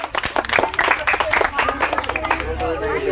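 Audience applause at a village contest game as prizes are handed out, brisk clapping from a small crowd under lively background chatter, lasting a few seconds.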